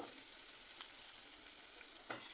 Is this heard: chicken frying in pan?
yes